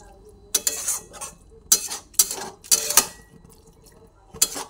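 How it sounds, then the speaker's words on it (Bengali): A spoon stirs onion poppy-seed paste with a little water in a metal pan, making several sharp, close scraping and clanking bursts in an irregular rhythm. Quiet pauses fall between the bursts. "অল্প করে জল দিয়ে ভালোভাবে নাড়াচাড়া করে দিলাম।"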